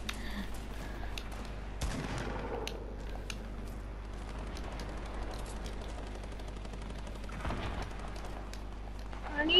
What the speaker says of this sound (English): I've been firing off at all of them for the past like 10 minutes.